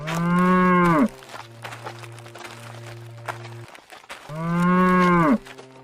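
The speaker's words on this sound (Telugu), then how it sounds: "రాధ వెనక ముందు ఆలోచించకుండా సంతోషంగా ఆవును ఇంటికి తీసుకెళ్తుంది." A cow moos twice, each a loud, drawn-out low call close by, separated by a few seconds of quieter rustling and faint footsteps.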